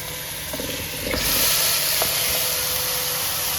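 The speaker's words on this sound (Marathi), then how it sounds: "आता हे सगळं मटण टाकून घ्यायचं" Mutton seasoned with turmeric and salt goes into hot oil in a pan. A quiet background sizzle jumps to a loud, sustained hiss as the meat lands, with a few stirring clicks. No talking is heard.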